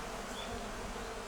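Honeybees buzz around their hive in a steady, dense hum with no breaks, fairly faint and with no voices.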